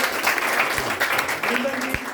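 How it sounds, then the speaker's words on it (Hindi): A crowd at an award ceremony for school toppers claps in a dense, steady wash of applause, moderately close, with voices faintly audible beneath it. "इनके लिए जोरदार ताली बनती है।"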